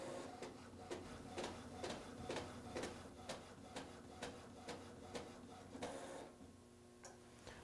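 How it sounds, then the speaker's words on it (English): A sublimation printer runs nearby with a regular, evenly spaced ticking and clacking of its print head over a low mechanical hum, ending in a final clunk before the motor quiets. "And you'll hear the printer printing in just a second."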